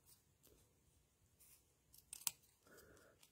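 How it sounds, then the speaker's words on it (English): Scissors snip through cardstock while rough-cutting paper flowers for a handmade birthday card, making a few quiet, scattered cuts with one sharper snip near the end. "It's a little harder cutting through, and these are not nice like the Stampin' Up scissors."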